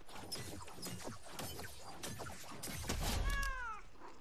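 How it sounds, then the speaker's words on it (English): A cat meows from a weapon skin in a shooter video game, a clear rising and falling meow near the end that follows a run of gunshot-like cracks and crashing game effects. "the cat is reactive to kills for every time like you get like a kill, then he shoot, it's gonna meow"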